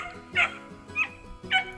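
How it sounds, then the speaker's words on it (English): A dog barks three times at a steady pace, short yappy barks nearby with brief pauses between them. "I'm not thankful for this dog barking."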